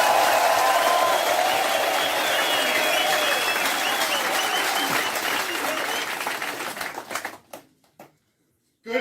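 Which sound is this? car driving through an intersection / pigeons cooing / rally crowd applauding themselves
rally crowd applauding themselves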